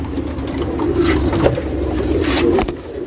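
Pigeons cooing, a pair of Vijipura Makshi and Chikka Dhooma birds, male and female; soft low continuous coos fill the clip, close and steady with slight swells, with no talking.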